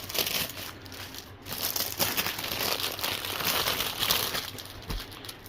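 A plastic dust bag crinkles and crumples loudly up close as it is opened and a rolled canvas is pulled out, bursts of rustling with brief pauses, no talk.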